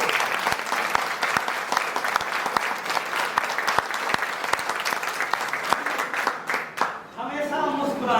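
Sustained audience clapping fills a training session hall, dense and steady with a few sharper nearby claps, thinning briefly near the end as a voice begins to speak.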